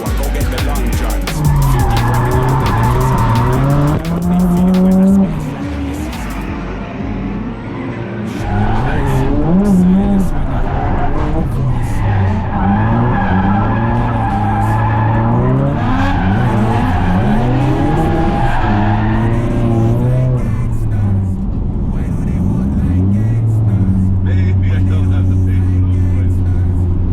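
About sixty cars drifting in a tight circle at the Ebisu Matsuri drifting event, a loud, continuous roar of revving engines and squealing tires that rises and falls as cars pass near, with voices faintly underneath.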